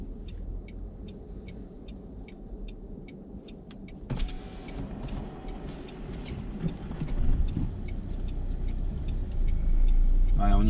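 A car pulls away and drives slowly on the road while a learner driver works the clutch. Engine and road rumble are low and build toward the end, with brief clicks and conversation inside the cabin.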